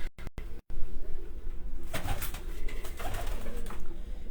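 Flock pigeons flown from a loft near Sarai Alamgir coo softly amid outdoor bustle, with a flurry of wing and background noise building after the first two seconds.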